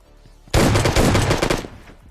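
A loud automatic burst from a PUBG video game gun, rapid rounds firing for about a second at close range before cutting off, with no talk.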